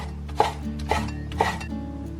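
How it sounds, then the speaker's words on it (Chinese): A knife chops fresh kelp sprouts into small pieces on a board, three firm, evenly spaced cuts close up with a soft rustle between them and no talking. "接着再洗几根这种海带苗，这种是新鲜的哈，给它切小块"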